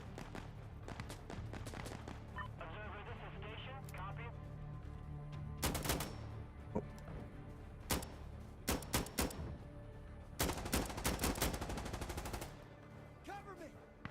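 Automatic gunfire in a shooter video game, with bursts of rapid loud shots in several clusters over continuous game noise, mixed with scattered single cracks.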